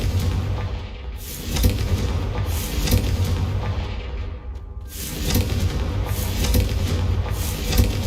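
A Confringo explosion spell detonates in Hogwarts Legacy with heavy booms and rushing bursts, loud and sustained over eight seconds, swelling in two waves separated by a brief dip.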